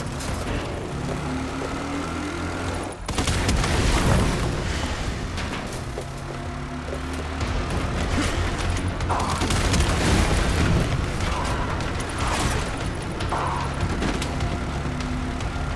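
Rockets firing and exploding in Resident Evil Requiem, a sharp booming blast that gives way to sustained dense rumbling and crackling explosions, loud and continuous throughout.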